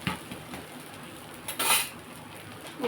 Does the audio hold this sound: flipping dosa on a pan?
yes